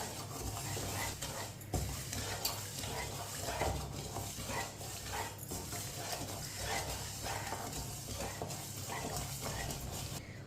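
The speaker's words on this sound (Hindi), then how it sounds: "इसी तरह चम्मच चलाते हुए चीनी को मेल्ट कर लेंगे" A spoon stirs sugar in hot oil in a pan for grainy suji halwa. It makes a continuous dense sizzle with steady scraping, loud and close, and no one speaks.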